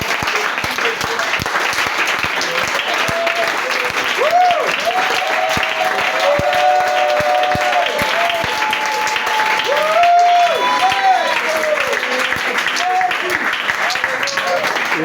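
A church congregation applauds and cheers in acclamation during worship, a dense, steady wash of clapping with voices and singing threaded through it, loud and sustained throughout.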